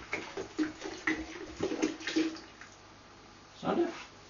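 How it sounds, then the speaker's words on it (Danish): Yeast starter is poured into a home-brew beer bucket, making faint, uneven splashes and gurgles in quick bursts, then a brief pause and a last splash. "Vi mangler bare at hælde gær i, og så lukke spanden."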